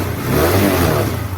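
TVS Apache 180 motorcycle engine revving up close, a loud rough throb that rises and holds briefly with a buzzing, vibrating tone and no talking.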